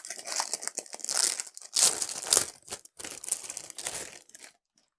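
Crinkling and tearing of plastic and cardboard packaging as a Razer BlackWidow V3 Mini HyperSpeed keyboard box is opened, busy bursts of rustling close to the mic for about four and a half seconds before falling silent.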